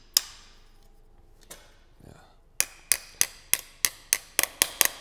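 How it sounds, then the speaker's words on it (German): Hammer driving a nail anchor through a component into a drilled hole, a few scattered taps followed by a rapid run of about ten sharp, evenly spaced metallic strikes, close and loud. "Der Nagel eingeschlagen und schon ist das Bauteil fest."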